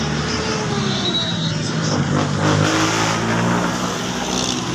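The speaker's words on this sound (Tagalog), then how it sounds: "Mga jeep dumadaan." Jeepneys passing by on a road, a steady loud rumble of engines and traffic noise that swells slightly midway and continues throughout.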